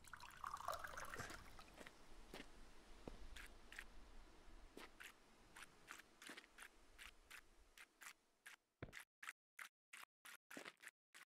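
Plants being watered in the Mon Bazou video game: a steady trickling pour with scattered clicks, fading into a run of sharp, evenly spaced clicks, with no talking.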